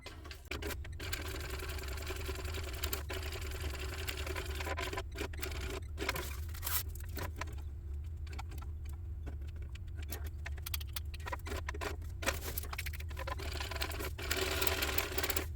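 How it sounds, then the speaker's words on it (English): A sewing machine top stitches along the bottom and top seams of an Oxbow tote bag, a steady continuous mechanical whir with small clicks and jangles running for the whole stretch, close by and with no talking. "So I'm going to top stitch well at the bottom and the top"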